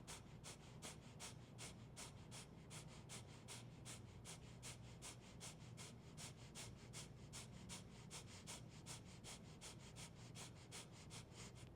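Rapid, forceful exhales through the nose in yoga breath-of-fire style, a steady rhythmic train of short sharp puffs repeating about three per second, close and continuous throughout with no talking.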